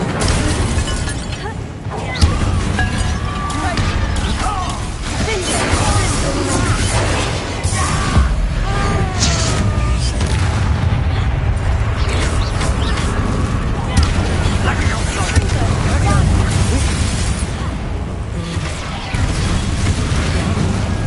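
Fiery spell blasts and crashing impacts from Incendio and Confringo casts in the Hogwarts Legacy video game, a dense, loud, continuous barrage of bursts and shattering under shouted game dialogue.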